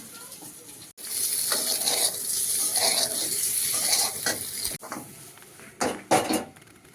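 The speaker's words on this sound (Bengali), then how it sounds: "কড়াইতে তেল দিয়ে পেঁয়াজ রসুন ফোড়ন একটু ভেজে" Onion and garlic frying in oil in a wok, a steady loud sizzle broken by stirring and the scrape and clink of a utensil against the pan, with a brief pause partway through.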